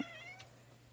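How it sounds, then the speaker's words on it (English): A single short, high kitten meow, close and soft, over a low steady hum. "because it's meowing at me a little bit"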